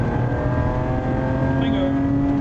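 A Toyota Supra mk3 accelerating hard from a standstill during a 0 to 60 test, a steady loud engine drone with a slowly climbing pitch, heard from inside the car with a voice faintly underneath.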